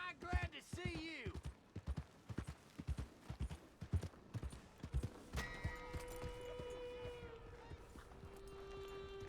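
Horse hooves clip-clop in Red Dead Redemption II, a run of close, distinct hoofbeats in an uneven rhythm, followed by a steady tonal hum and faint background sound.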